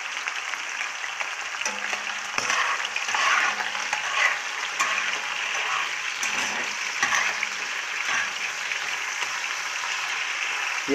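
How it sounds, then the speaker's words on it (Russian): Goat heart sizzles and spits in a hot pan while being stirred, a continuous bright crackle with occasional scrapes and clatters of the utensil against the pan. "Я часто перемешиваю сердечко,"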